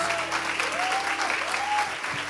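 Congregation at a Christian talk event applauding to praise God, a loud, steady wash of many clapping hands with a faint tonal voice or instrument gliding through, ending abruptly.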